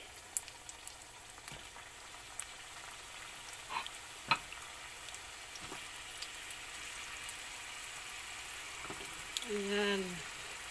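Sweet potato pieces cook in melted brown sugar with a soft, continuous sizzle, broken by scattered clicks and scrapes, then a brief bubbling rise near the end.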